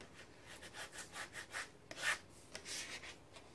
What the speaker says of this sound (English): Burnish that down fairly tight so that the paint can't get under it